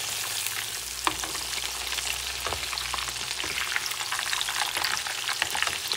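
Chicken breasts sizzle and crackle steadily while frying in hot oil, with a few soft clinks of stirring; no voices.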